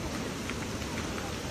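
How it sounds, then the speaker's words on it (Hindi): Steady rain pouring down outdoors near a tree, a dense even hiss with soft patters throughout, no voices. "क्योंकि आ चुकी है बारिश"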